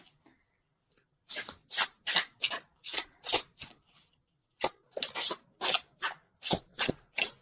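Tarot cards being shuffled up close, with a quick run of crisp riffling slaps, a short pause, then another burst of rapid even shuffles.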